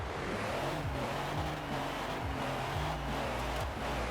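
A massive drag racing truck with a 10-gear transmission in Forza Horizon 4 accelerating, a steady low engine drone with rising gear tones, moderately quiet and continuous.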